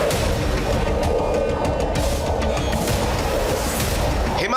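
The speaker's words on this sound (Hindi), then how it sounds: "फाइटर जेट्स की गर्जना से थर्रा रहा है ड्रैगन" Fighter jets roar at a forward air base high in the Himalayas of Ladakh, a loud, dense and continuous rumble with sustained broadband thunder that fills the clip without a break.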